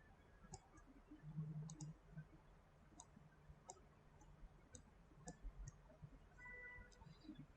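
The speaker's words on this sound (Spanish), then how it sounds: "Y acá hago triple clic y creo un grupo" Sharp, quiet mouse clicks in short bursts and single taps, spread across a hushed room while working in SketchUp modeling software, some in quick double and triple runs.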